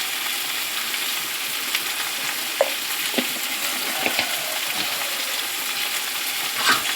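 Curry with turmeric frying in a pan as it is stirred, a steady broadband sizzle with a few sharp scrapes and taps of the spoon scattered through, no voices.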